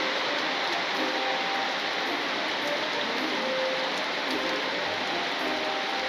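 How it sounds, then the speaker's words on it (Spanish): Heavy rain pouring steadily at Hacienda Santa María Regla in Huasca de Ocampo, Hidalgo, a dense constant hiss with no pauses, close and loud. "ahora sí está muy muy fuerte la lluvia"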